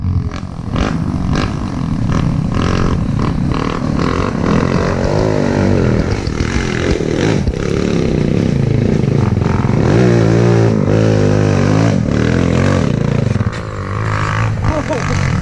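A trail motorcycle engine revs hard and repeatedly close by, its rising and falling whine pulsing through the clip while someone speaks over it.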